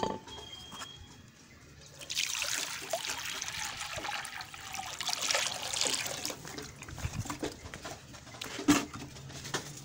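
Water trickles and splashes into a container for Aseel chickens, a soft pour close by, with faint birdsong in the background.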